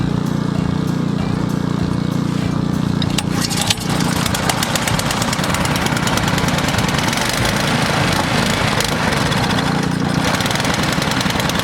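A Toro or Ariens snow blower engine starts with a short burst and then runs at a loud, steady chugging idle close by, with no one talking.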